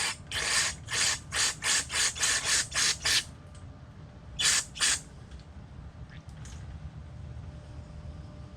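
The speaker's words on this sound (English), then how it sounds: "I'm just going to start spraying through all of the ports on here" A run of short, rhythmic hissing aerosol spray bursts into the engine ports of a wood chipper/shredder that will not start, about nine in quick succession, then a pause and two more, fairly close and loud.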